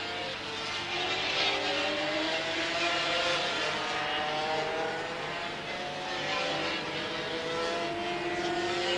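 Grand prix racing motorcycles, including a 3-cylinder Honda, racing at the Assen circuit in 1984, engines wailing and shifting pitch as they pass through a corner, loud and continuous against a distant crowd.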